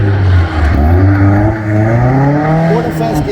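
Caterham sports car at a Silverstone drifting event, its engine loud and close, dipping briefly and then climbing steadily in pitch as it revs and accelerates.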